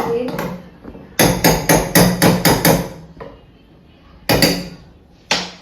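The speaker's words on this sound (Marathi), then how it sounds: "चमचा पडून गेला" A steel spoon dropped in a home kitchen while tea brews, giving a run of sharp metallic clatters and clinks close by, a quick burst of several hits, then a pause and a few more clanks.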